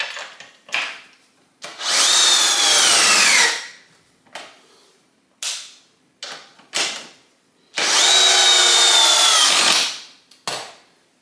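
A Ridgid compact drill on high with a 2 amp hour battery drives a 4.5-inch, 1/4-inch lag bolt into wood in two long, loud, rising whirring runs, with short bumps and clicks between.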